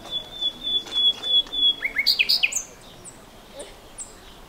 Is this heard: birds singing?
yes